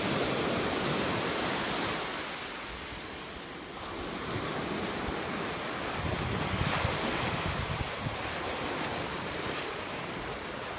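Loud ocean waves surge and break continuously at Haskell's Beach in Santa Barbara near an old abandoned oil pier, a broad roaring wash that swells and recedes with wind noise over the microphone and no voices.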